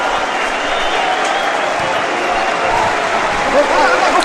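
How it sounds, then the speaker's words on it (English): Crowd applause ripples through a football stadium while players warm up on the sidelines during a match, a broad, distant wash of clapping and crowd murmur with a faint whistle near the end. "I think the applause is for Arturo Vidal, one of the players warming up"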